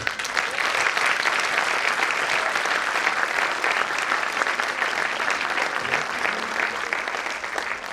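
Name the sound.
applause after a dance performance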